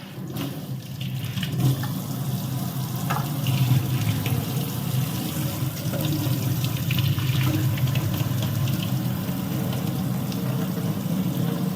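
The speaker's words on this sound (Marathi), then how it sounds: "बघा सर्व पाणी आपलं पटपट जात आहे" Water rushes and gurgles steadily as it drains quickly from a sink basin through a newly fitted pipe, a continuous close splashing flow that keeps going without pause.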